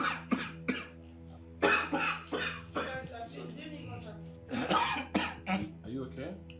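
A person with a chronic cough hacks in several bursts, harsh, close coughs and throat clearing spaced between pauses, with speech mixed in.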